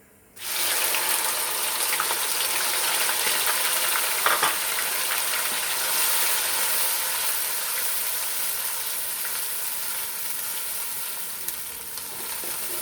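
Steady, close sizzling of onions frying in hot oil, starting abruptly and continuing without pause, with an occasional faint clink or stir.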